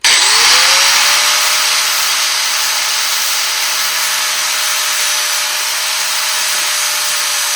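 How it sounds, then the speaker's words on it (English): A bench grinder fitted with a fabric wheel sharpens a dull lawn mower blade, a loud continuous high whine with a harsh rubbing hiss that holds steady from start to finish, no voices. "We're just taking this grinder and this, I don't know what you call this wheel, but it's just this like fabric. And it touches this blade up real nice."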